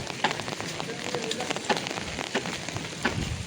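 Light rain falls on a building construction site in Surat, giving a steady patter punctuated by irregular close drips and taps on materials and surfaces.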